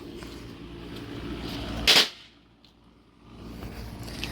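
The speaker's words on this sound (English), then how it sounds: "Now we're going to be doing the pop." A small pop firework goes off once with a single sharp, loud snap outdoors, standing out against a quiet background hiss.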